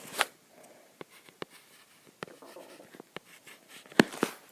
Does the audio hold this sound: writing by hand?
yes